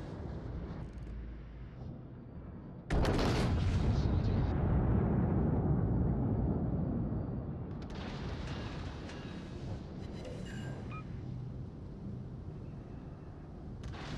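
Naval gun bursts in the ship game Test Conqueror, a sudden loud roar swelling and rumbling for several seconds before fading into a steady wash of distant battle noise.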